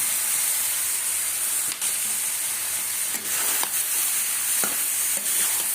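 Prawns fry in spice paste in a hot pan with a loud, steady sizzle and hiss, and occasional stirring scrapes and clicks punctuate it.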